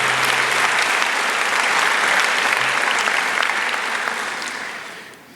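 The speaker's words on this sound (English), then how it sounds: "I'd like you to give a quick round of applause to your teachers." Audience at a 2019 Dunkirk High School graduation in Dunkirk, NY applauds the teachers, a dense, steady clapping that fills the hall for about five seconds before fading out at the end.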